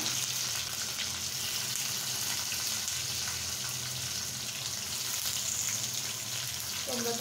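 Finely chopped onion sizzles steadily in hot oil in a pan, a constant close frying hiss running throughout with faint background noise and no clear voices.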